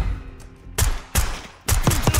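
Gunfire in the Call of Duty Black Ops 6 campaign: three sharp, loud bursts of shots crack in quick succession over a quiet game background.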